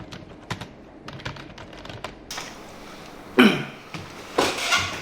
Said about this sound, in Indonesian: Sambil gini juga bisa gue ngetik tuh.